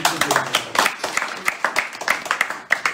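Church congregation clapping together in praise during a French-language service: a dense, lively run of quick claps filling the space, with cheers and voices mixed in.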